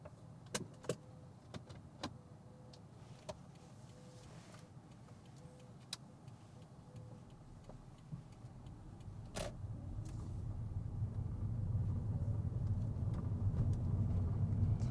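An automatic car pulling away during a practical driving test: a steady indicator ticks at first, then low engine and road rumble swells as the car gets moving, with no voices.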